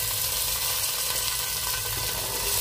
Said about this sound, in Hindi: इसको भी हम हल्का फ्राई करेंगे।